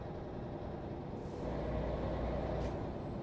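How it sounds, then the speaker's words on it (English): An old Mack R truck hauling a Fruehauf trailer rumbles along a highway, a steady low engine drone with a brief air-brake hiss partway through. "This little Mack, she's gonna make some noise as we go down these roads"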